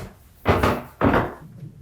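An attic door in an old house is opened with two close wooden knocks or thuds about half a second apart, each followed by a brief rattling decay in a quiet room.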